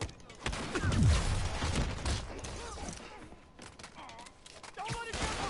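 Enemy gunfire in Spider-Man PS4 as Fisk's men open up, bursts of shots and impacts mixed with game action and voices talking over it throughout.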